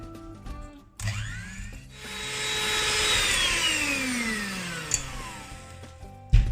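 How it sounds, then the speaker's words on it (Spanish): An electric hand mixer whirs steadily for several seconds mixing egg yolks for tiramisu, its pitch gliding down as it runs, with a brief clank near the end. "Y lo vamos a mezclar todo bien con la batidora."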